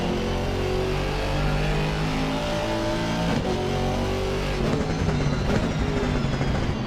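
Three Mercedes GT4 race cars at Barcelona sweep past in a loud, dense roar of engines, with rising and falling revs and a Doppler shift as they pass close by.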